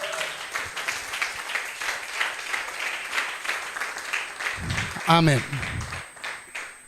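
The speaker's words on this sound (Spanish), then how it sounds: "Denle un aplauso al Señor." A church congregation applauds steadily at a Spanish-language service, a broad wash of clapping with a voice briefly speaking over it near the end.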